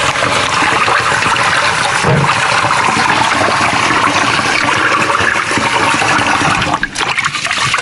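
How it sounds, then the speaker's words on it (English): Water runs steadily over rice being washed for fried rice, a loud continuous rush and trickle with slight splashing that fills the whole stretch, with no one speaking. "just gonna wash the rice."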